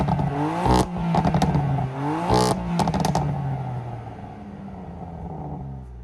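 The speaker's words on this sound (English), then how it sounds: "This is Sport Plus redlining." A BMW F80 M3 engine in Sport Plus revs hard toward redline twice, each pull a loud rising snarl that climbs in pitch and drops back, then settles into a steady idle rumble.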